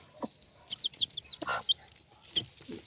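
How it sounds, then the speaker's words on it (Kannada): Three-day-old chicken chicks peep in high, thin chirps in a brooder, several short faint calls scattered amid soft rustling and light shuffling nearby. "ಈಗ ನೋಡಿರಿ ಇದು ಮೂರು ದಿವಸದ ಮರಿಗಳು ಹುರುಳಿ ಎಷ್ಟು ಆ್ಯಕ್ಟಿವ್ ಆಗಿದ್ದಾವೆ"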